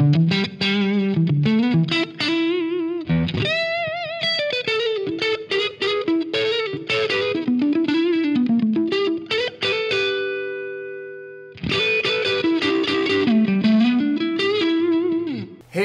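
Electric guitar at an edge-of-breakup tone through a BOSS Waza Tube Amp Expander with light reverb, playing a melodic phrase of mildly gritty picked notes and chords, then one ringing chord fading out before the playing resumes.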